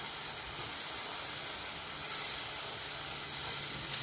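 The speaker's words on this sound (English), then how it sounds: "Just gonna pour this water in." Water poured into a hot pan over a high flame for gravy hisses and sizzles continuously, a loud, close steam rush that holds steady for several seconds.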